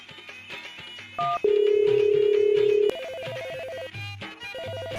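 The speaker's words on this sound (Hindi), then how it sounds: "ये सारा के फोन आली चालू हो गया, फिर बार बार परेशान करती।" A telephone rings in repeated electronic tones, with a long steady ring in the middle and shorter ringtone bursts after, fairly close and clear.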